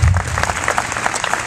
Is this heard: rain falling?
no